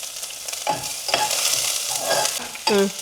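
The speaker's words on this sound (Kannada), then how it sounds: "ಎಣ್ಣೆ ಕಾದಿದೆ. ಈರುಳ್ಳಿ ಹಾಕ್ತೀವಿ." Onions land in hot oil and sizzle loudly and close, with a bright continuous hiss and several scraping stirs of a spoon through the pan.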